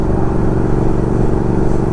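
A Triumph Speed Twin motorcycle rides off-road along a wooded path, its engine giving a steady, loud, close rumble with no clear revving changes.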